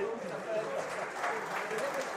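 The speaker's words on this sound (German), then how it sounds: "gibt es kurz noch 10 Applaus für die Jungs" Stadium crowd applauding the substitute players of FC Viktoria Köln before a match at SV Sandhausen, a steady, even wash of clapping from the stands with a faint announcer's voice under it.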